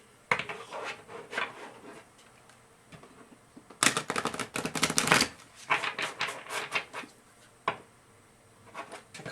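A deck of tarot cards is shuffled by hand close up, a run of crisp riffling bursts and soft slaps with a dense, loud flurry in the middle and quieter taps after, with no talking.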